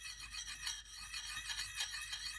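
A kukri blade drawn across a small jadeite sharpening stone in repeated scraping strokes, a close, quiet, steady gritty rasp with no talking.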